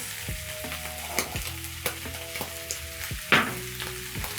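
Liver and onions frying in a pan, a steady close sizzle punctuated by scrapes and knocks of stirring, with no talking.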